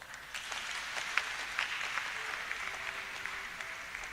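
Church congregation applauding during a Kikuyu-language service fundraiser, sustained hand clapping from a crowd filling the room at a fairly even level for several seconds.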